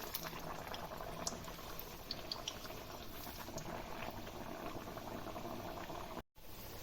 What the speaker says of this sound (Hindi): पूड़ियाँ आराम से और ध्यान से डालनी है और अच्छे से सेकनी है इसको